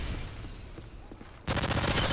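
Burst of rapid automatic gunfire in the video game Call of Duty: Modern Warfare 3, erupting loudly after a quieter stretch of game ambience.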